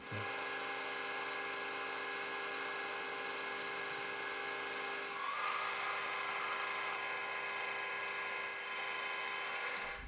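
A machine tool cuts a 10.25mm hole through 45mm aluminium T6 bar with a high-speed steel end mill, a steady loud whining drone with harmonic tones that shift in pitch partway through, no speech.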